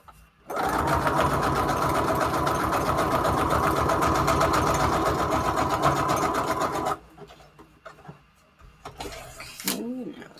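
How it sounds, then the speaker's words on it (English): Sewing machine stitching paper junk journal pieces together, a fast even mechanical whir and rattle for about six seconds, then it stops and quieter handling sounds and a brief voice follow. "let's sew these pieces together here. Let's sew it over here."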